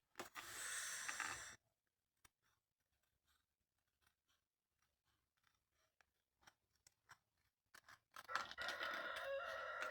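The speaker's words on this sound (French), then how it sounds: "Ah oui, vous entendez le coq, c'est le coq du voisin." A neighbour's rooster crows loudly twice, once at the start and again near the end, with a quiet stretch of faint scattered clicks and rustles in between.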